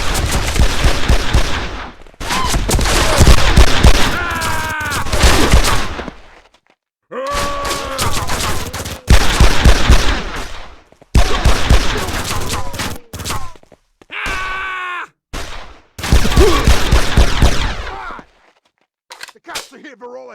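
Gunfire in the crime shooter Made Man, loud close bursts of rapid shots and single cracks alternating with gaps of silence, mixed with shouting and grunting voices throughout.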